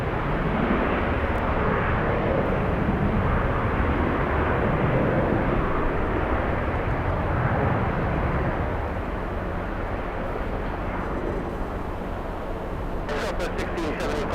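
A jet airliner taxis at Boston Logan airport, its engines producing a loud, broad, continuous roar that eases slightly toward the end, with voices talking over it.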